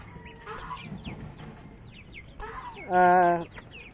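Young ducks squabble in their pen at feeding time, scattered soft quacks and peeps building to one loud, harsh quacking burst near the end.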